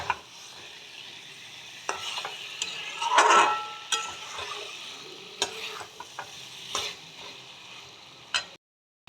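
Spiced masala paste for cauliflower korma frying in oil, a steady soft sizzle with scraping stirs and a louder burst of spattering partway through, close by, ending in a brief silence.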